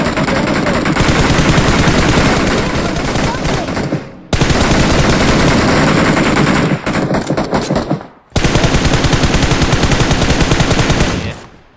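Gunfire in BGMI (Battlegrounds Mobile India), loud sustained automatic bursts in three long strings separated by brief pauses, close and dominant.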